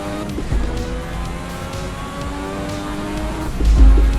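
A 1986-era Formula 1 race car in Assetto Corsa at the Portuguese Grand Prix, engine howling steadily at high revs in the foreground with gear changes, loud and continuous throughout.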